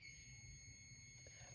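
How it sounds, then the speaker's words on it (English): Egg incubators sound their alarms, with steady high-pitched electronic tones held continuously and faint against a low room rumble. "the incubators are slowly getting up to temperature and humidity because now the alarms are all going off"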